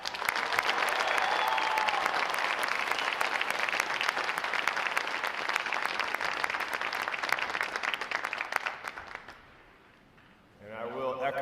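A crowd at a U.S. Navy recruit boot camp graduation gives a long round of applause for a graduating division, broad sustained clapping that fades out, followed by a voice speaking over the public address.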